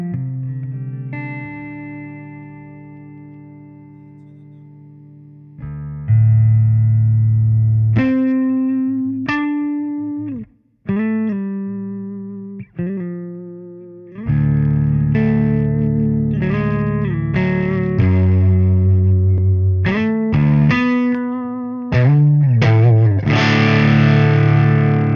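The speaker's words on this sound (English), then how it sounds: "I'm gonna turn some reverb on, which is I think this button" Electric guitar played through an amp with reverb switched on: distorted sustained chords and single notes ring out and decay into a reverb tail, with sharp stops and restarts, loud and close, no talking.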